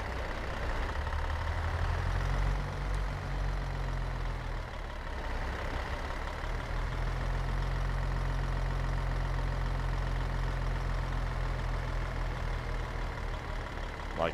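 A Caterpillar 3406E truck engine in a modded trucking video game idles with a low, steady rumble and a faint knocking texture, running evenly and alone throughout.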